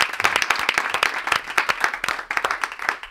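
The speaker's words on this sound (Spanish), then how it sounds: "Un aplauso para Carlos, que está en IFEMA, claro." Studio audience applause on a Spanish comedy radio-show set, dense steady clapping with no voices over it.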